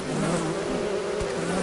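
Bees drone in a dense, continuous buzz around beehives in the survival video game Don't Starve, steady and fairly close with no voices.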